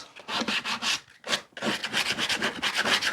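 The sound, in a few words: sanding pallet wood bird box smooth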